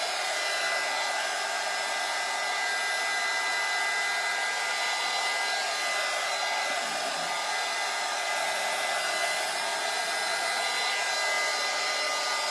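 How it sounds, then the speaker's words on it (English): A hand-held hair dryer blows continuously on fresh stencil paint, a loud, steady close whoosh and whine with no pauses and no voices. "I'm just gonna dry this real quick."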